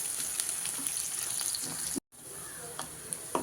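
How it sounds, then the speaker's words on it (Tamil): Onions sautéing in a pan while Maggi noodles are being made, a soft steady sizzle with faint stirring scrapes and a brief dropout midway. "வெங்காயத்தை நல்லா வதக்கிக்கிட்டு நல்லா மேகிக்கு நல்லாவே வதக்குங்க"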